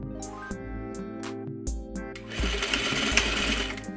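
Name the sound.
sewing machine sewing trouser fly piece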